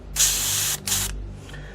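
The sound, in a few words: Grex airbrush spraying out excess paint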